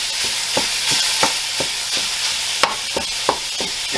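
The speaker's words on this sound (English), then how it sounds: "there's our ground beef. It's starting to brown." Ground beef sizzles and browns in a hot pan, a loud, steady frying hiss close by, broken by regular scraping knocks as the meat is stirred and broken up, with no talking.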